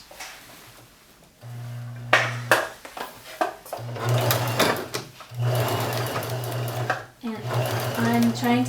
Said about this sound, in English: Now it's time to sew our two curved pieces together.